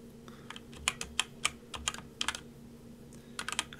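Keystrokes on a Magegee Sky98 keyboard during a game of Black Mesa, quick irregular bursts of clicky presses with short pauses between them, close up over a faint steady hum.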